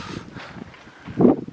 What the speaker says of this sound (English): Oh, it's windy. Hope you can hear me in this friggin' wind.